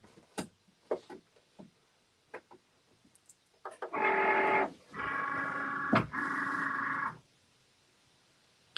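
A Cricut cutting machine slices paper, giving a steady whirring motor drone in three connected passes with brief pauses. Faint clicks and small handling taps come before it.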